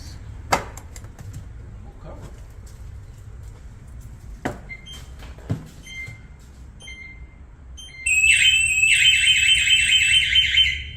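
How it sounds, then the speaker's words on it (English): A few scattered knocks and clicks, then a loud, shrill electronic alarm suddenly sounds and keeps beeping in a rapid warbling pattern. "let me hook this alarm up"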